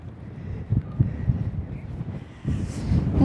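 Strong gusting wind buffets the microphone on an exposed Atlantic coastline in Ireland, a steady low roar with louder surges that builds toward the end, no voices present.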